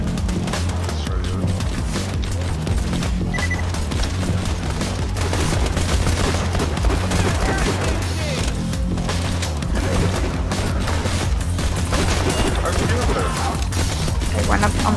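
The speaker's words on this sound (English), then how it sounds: "this is the one shotgun that I have to reload. Yeah, but it explodes." Shotgun blasts and explosions from the video game Borderlands crackle in dense, continuous volleys of rapid gunfire, loud and busy throughout, with game effects layered underneath.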